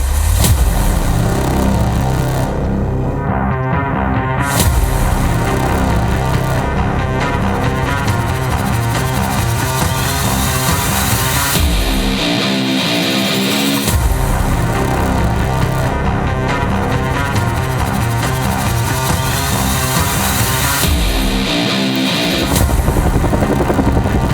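A loud, constant engine drone with a throbbing rotor roar fills the scene throughout, steady and close as heard from inside a helicopter cabin in flight.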